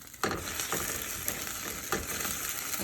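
Ground turkey frying in a pan, a steady close sizzle with a few brief scraping stir strokes across the pan.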